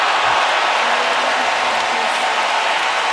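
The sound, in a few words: tennis crowd applauding and reacting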